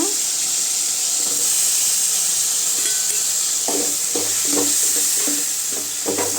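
Bitter gourd and tomato sauté in a pan with a steady sizzle, while a spoon stirs and scrapes in irregular bursts, growing busier in the second half.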